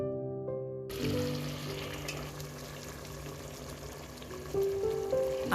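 A pan of shahi chicken korma sizzles and bubbles as it is stirred, a steady close frying hiss with soft scraping after a brief quiet start.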